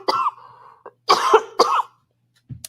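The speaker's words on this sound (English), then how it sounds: "Oh, here comes my cough." A person coughs several times in quick succession, close up, with short harsh bursts and a brief gap before a final small cough; no talking.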